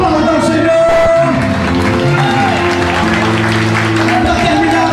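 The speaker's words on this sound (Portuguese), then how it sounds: "Aplauda o Senhor." A church congregation applauds during a worship service, the clapping layered under ongoing music, loud voices and shouts throughout, with someone speaking over the crowd.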